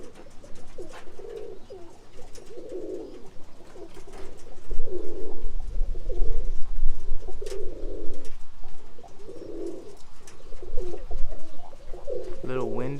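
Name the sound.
roller pigeons cooing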